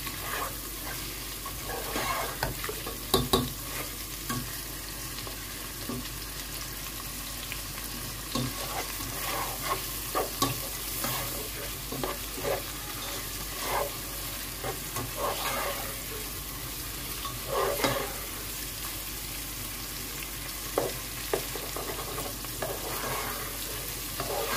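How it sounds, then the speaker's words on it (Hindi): Boneless chicken pieces frying with garlic in a pan, a continuous low sizzle with intermittent clacks and scrapes of stirring, fairly quiet and steady throughout, with no talking. "मैंने डाल दिया चिकन बोनलेस। अब इसको करते हैं फ्राई"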